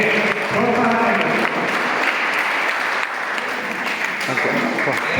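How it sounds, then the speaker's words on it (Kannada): An audience claps loudly and continuously for a blindfolded child performer on stage, with dense applause from a crowd and a voice heard over the clapping at the start. "ಜೋರಾಗಿ ಚಪ್ಪಾಳೆ ಮಾಡೋದ್ರಿಂದ ಈ ಮಗುವಿಗೆ ಪ್ರೋತ್ಸಾಹ ನೀಡಿ."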